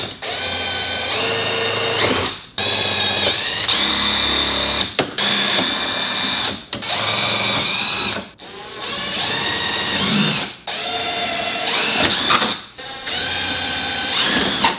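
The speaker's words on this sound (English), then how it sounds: "We're gonna drill all of those holes out with the same bit." A power drill whines in repeated bursts, about seven runs drilling holes in a Corvette C6 body panel, separated by short pauses, each rising and falling in pitch, close and loud.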